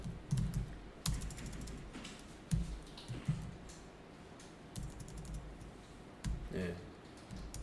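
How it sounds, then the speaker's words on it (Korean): Computer keyboard typing during an accounting software lesson, with irregular bursts of soft keystrokes and a few heavier presses like Enter being struck, close and fairly quiet, under a person talking. "외상 2글자 입력하시고 엔터 칩니다"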